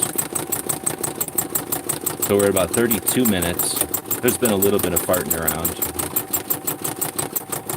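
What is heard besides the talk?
embroidery sewing machine motor running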